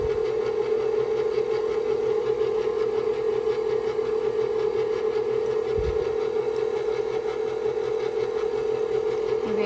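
An electric mixer whisks cream in a bowl with a steady, continuous motor whir and faint rattle, close by and uninterrupted.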